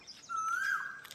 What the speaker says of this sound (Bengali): পাখির ডাক শুনুন।